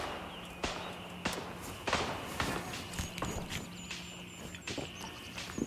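Footsteps from a character in the military shooter Gray Zone Warfare, a steady run of heavy thuds about every half second that stay close and prominent over a low game ambience with faint high tones.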